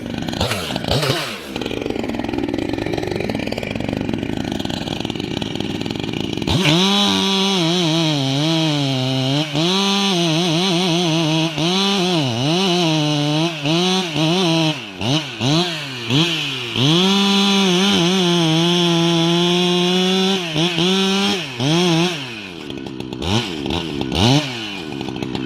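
Chainsaw run at high, wavering revs while trimming around a tree before an uphill felling, the engine note rising and falling continuously and loud up close, after a brief quieter start.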